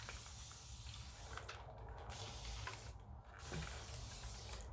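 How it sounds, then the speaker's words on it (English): A continuous spray bottle releases water in two brief, faint hissing bursts against a quiet indoor background. "I just got water all over the place because that's one of those continuous spray bottles"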